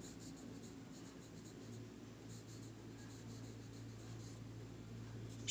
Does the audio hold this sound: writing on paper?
yes